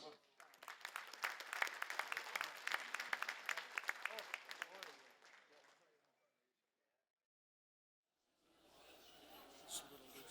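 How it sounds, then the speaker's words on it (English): Audience applause at a Blackfoot language symposium, a dense roomful of clapping that runs for about five seconds, fades to silence, then returns more quietly with crowd murmur. "Let's give Robert a big round of applause."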